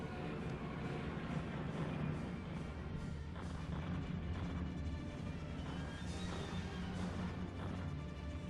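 A wartime bomber's dropped bomb explodes far below, heard as a sustained, loud rumbling crash that rolls on steadily for several seconds with no voices over it.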